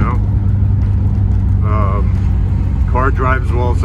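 A 1978 Lotus Esprit S1 with a freshly rebuilt engine and manual transmission drives with a steady, droning engine note heard from inside the car, while someone speaks intermittently over it.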